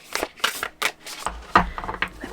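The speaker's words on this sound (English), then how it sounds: "Should we give it a shuffle?" Oracle cards riffle and slap together in a few quick bursts, a soft papery shuffling close by with brief pauses between passes.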